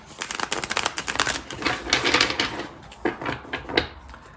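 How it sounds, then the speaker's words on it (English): Cards are shuffled with a rapid, crisp riffling flutter, a couple of bursts of fast snapping clicks close to the listener. "So we'll give these a few shuffles."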